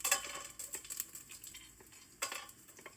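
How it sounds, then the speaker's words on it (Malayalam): Whole spices, including fennel seeds, peppercorns, cloves, cinnamon, nutmeg, star anise and cardamom, sauté in a pan for beef biryani, giving close crackly stirring and sizzling bursts that pulse irregularly, with no talk. "ഇതൊന്ന് ചെറുതായിട്ട് സോട്ട് ചെയ്ത്"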